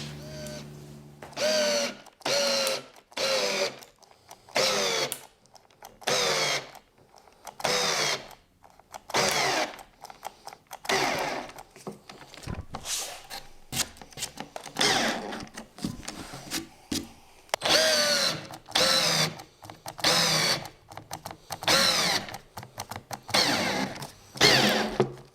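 A power drill drives screws into the frame of a racing sim rig. It runs in a long series of short, loud bursts with brief pauses between them, and the rhythm stays uneven throughout.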